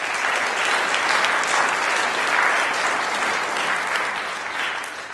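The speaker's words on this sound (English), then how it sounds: "So one more round of applause for them." A large audience at a university saxophone concert claps continuously, loud and dense, tapering slightly toward the end.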